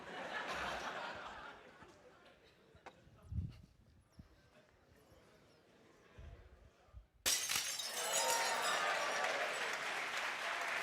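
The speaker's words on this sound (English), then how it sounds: "Students love it when the glass breaks." Glass shattering during a physics lecture demonstration: quiet room noise and scattered small knocks, then a sudden loud burst that carries into sustained crowd noise like applause and laughter from students.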